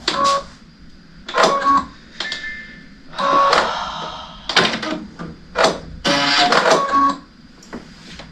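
A sewing machine runs in short mechanical bursts without stitching, its whirring and clattering starting and stopping several times at close range with brief pauses between runs.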